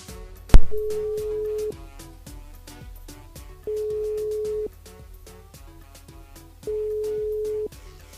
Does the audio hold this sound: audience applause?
no